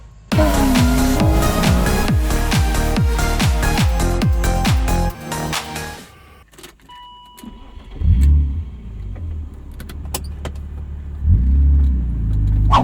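A car called Sparky starts with keys jangling and an engine churning to life, then settles into a steady running drone with a few louder revs, heard alone without talk.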